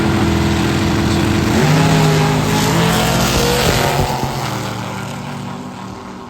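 A country-style Altered drag racing car makes its run, a loud, steady engine roar that holds high and then slowly fades as it pulls away.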